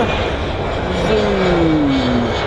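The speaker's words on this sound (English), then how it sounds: "An Austrian taking off there." Austrian Airlines airliner taking off at Manchester Airport, a steady loud engine roar with a rising-then-falling whine across the clip, no talk over it.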